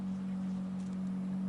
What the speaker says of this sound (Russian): Мощный мотор, между прочим.